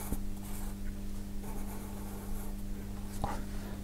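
A brush writing Japanese calligraphy characters on paper, soft faint strokes and rustles over a steady low hum, with occasional light taps.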